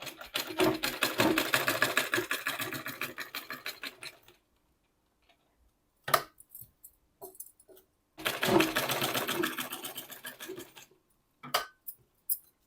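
Sewing machine stitching a straight seam along a suit neckline, running in two steady rapid bursts of ticking stitches separated by quiet pauses with a few isolated clicks, close by with no talking.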